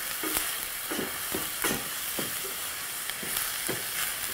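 Cumin and coriander seeds with other spices fry with a large batch of onions in a pan for curried yellow lentils, a soft steady sizzle broken by repeated stirring scrapes at an even rhythm.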